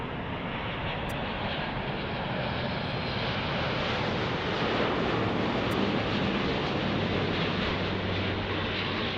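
A Delta Air Lines Airbus A350 at Los Angeles International Airport produces a loud, continuous jet roar that stays dense and even throughout, swelling slightly toward the end.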